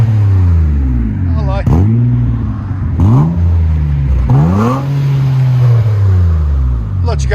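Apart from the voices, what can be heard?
2007 Nissan Altima 3.5L V6 revving, DC Sports dual exhaust mufflers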